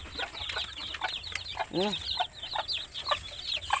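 A mother hen clucks among a flock of about twenty-one chicks, and the chicks keep up dense, high, overlapping peeping throughout. A few louder, lower calls rise above the chirping, all heard close up.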